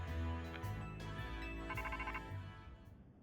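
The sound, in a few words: phone ringtone in Pokemon Legends Z-A video game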